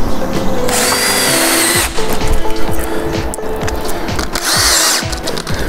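Power drill driving screws into a PVC window frame: a loud, close whirring burst from the drill, a short gap of handling noise, then a second burst, with rattling and scraping between.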